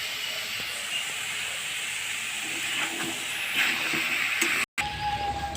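Watermelon rind curry sizzling in a pan while being sautéed with salt, sugar and turmeric, a steady close hiss and crackle that swells slightly before a brief cut, with no speech.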